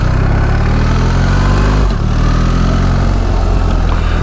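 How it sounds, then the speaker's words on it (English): A BMW R1300 GS boxer twin motorcycle engine roars loud and close, with a brief dip partway through as a quick shifter snaps it from first into second gear before the engine pulls hard again. "First to second gear with a quick shifter."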